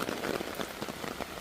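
Heavy rain pours down at a resort, a dense, steady patter of drops drumming close on surfaces without a break.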